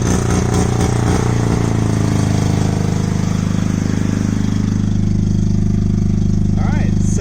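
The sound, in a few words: 1982 Mazda RX7 rotary engine start-up and idle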